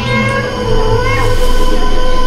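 A cat meows in the horror video game FNAF Into the Pit, a loud, drawn-out, tonal meowing that carries on over a droning game background.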